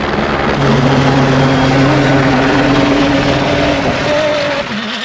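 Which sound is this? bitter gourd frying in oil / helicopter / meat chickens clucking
helicopter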